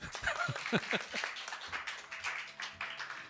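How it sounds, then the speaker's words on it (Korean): A church congregation applauds after a hymn, a short burst of clapping that starts dense and thins out, with voices talking over it. "박수 한번 하죠"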